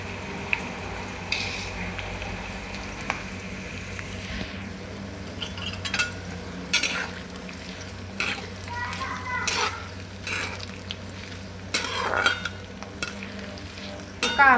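Onion frying in a pan for a Marathi pendpala recipe, a steady sizzle broken by spoon scrapes against the pan, with children's voices faintly in the background.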